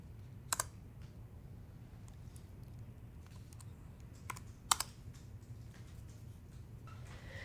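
Computer keyboard typing a terminal command to remove a software package, soft irregular key taps over a low hum, with a couple of sharper louder keystrokes near the start and middle.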